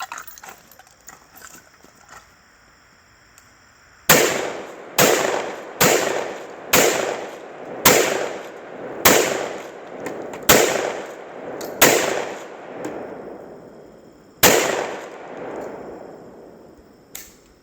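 Nine loud, sharp shotgun blasts firing birdshot at a target 75 yards away outdoors, spaced about a second apart with one longer gap before the last, each with a decaying echo and no talk.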